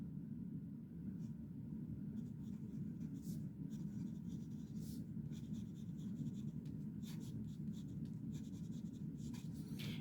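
Scratchy nib of a Montblanc Orient Express fountain pen dragging across paper in continuous close strokes, faint and steady over a low background rumble.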